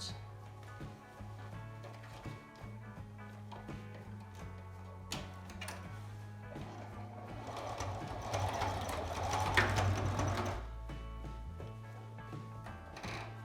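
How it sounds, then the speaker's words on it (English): Stitching on a sewing machine finishes a homemade fabric surgical face mask with a faint, steady mechanical whir and tick. It grows louder midway, then settles back to a low hum. "on my machine, I'm going to fold this over and put one last stitch"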